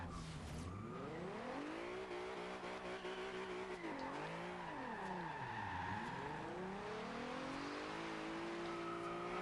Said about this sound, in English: It's still wheel spinning in second gear.